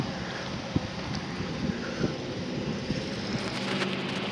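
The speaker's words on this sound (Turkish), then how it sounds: "Bir tık da rüzgar var" Cold wind blows through seaside streets of a town, a low buffeting rumble against the microphone with a few soft thumps and gusts, steady and moderately faint throughout.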